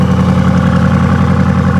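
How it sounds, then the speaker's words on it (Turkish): A Hemi-powered SRT8 car with a Meisterschaft exhaust idles with a deep, steady exhaust rumble, continuous and close, with no voices. "Böyle bir egzozu var."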